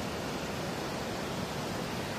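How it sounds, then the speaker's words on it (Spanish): Muddy floodwater rushes past the Lagunillas dam during a flood, a steady broadband roar of churning water that holds level throughout, close and continuous with no voices. "el agua que va corriendo por la crecida"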